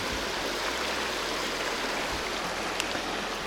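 Mountain river in the Carpathians rushes steadily over stones, a close, even broadband wash of flowing water with no voices.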